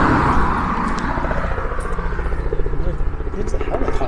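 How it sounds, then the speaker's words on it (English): Helicopter passing during a city walk in Seattle's Ballard neighbourhood, a steady broadband rotor roar with faint rhythmic chopping that fills the whole clip, heard under wind and outdoor ambience. "It's a helicopter."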